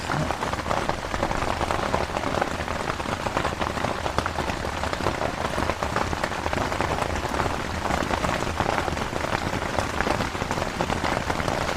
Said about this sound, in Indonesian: Mungkin deras hujannya teman-teman.